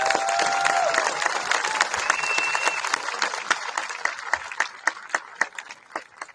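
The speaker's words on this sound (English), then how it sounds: "If I could have our educators please stand up, our counselors, our parapros, our support staff, our substitutes, everyone who's joined in, please, a round of applause." Applause from a high school graduation audience for the educators and staff, a dense wash of clapping that thins toward the end into fewer, sharper individual claps.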